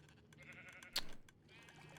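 Sheep bleating on a sheep farm in a video game, one short clear bleat in the middle over a quiet background of other faint farm noise.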